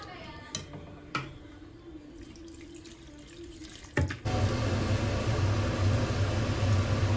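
Water poured into a pot of potato curry: a few light knocks and clinks at first, then a sudden loud, steady rush of pouring water that runs to the end without talking.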